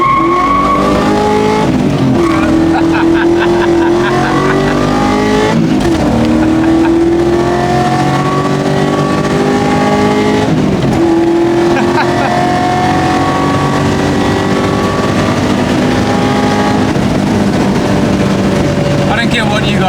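A Toyota Celica Supra with a swapped 1UZ V8 accelerates hard, its engine revving up through repeated gear pulls with rising tones, loud and close, with a voice briefly audible over it.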